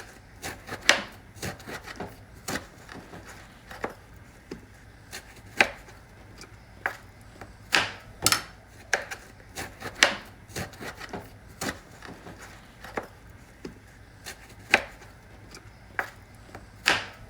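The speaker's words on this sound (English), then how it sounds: "I'm going to peel the eggplant" Eggplant being peeled and cut with a knife on a board, a close, irregular run of sharp scraping strokes and knocks, some louder, spaced unevenly throughout.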